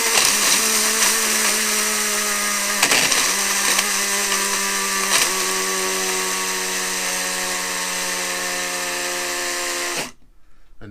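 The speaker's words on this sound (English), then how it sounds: "Do this last wee bit here, look. In the old coffee grinder." An old coffee grinder whirs loudly and continuously with a high motor whine, pitch dipping briefly a few times, then cuts off abruptly near the end.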